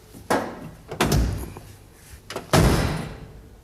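A car door is shut three times during body repair and welding work in a workshop, each close a solid, fairly loud thunk with a short rattle, spaced about a second apart.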